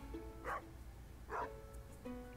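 A dog in the farming video game Stardew Valley gives three short, separate barks spaced evenly apart, each one brief and clear over a steady low background hum and soft game music.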